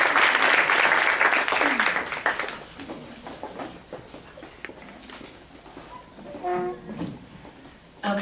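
Audience applause welcoming Dr. Kathy Gruver at an American Heart Association talk on stress, loud clapping at first that fades into scattered claps and murmuring voices.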